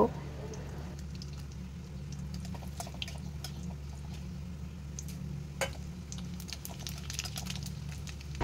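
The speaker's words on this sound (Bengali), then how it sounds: "তেলটা গরম হয়ে গেছে, এবার আমি ফোড়নগুলো সব দিয়ে নেব।" Whole spices, bay leaf and cumin among them, spit and crackle in hot mustard oil in a kadai, a steady low sizzle with scattered sharp pops, fairly quiet and close.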